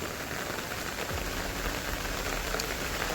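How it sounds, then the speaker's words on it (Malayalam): Heavy rain falls steadily during a hill trek near Kalvanthin Durg in Maharashtra, a dense, continuous hiss of drops on surfaces with no pauses and no voices. "നല്ല മഴ കേട്ടോ"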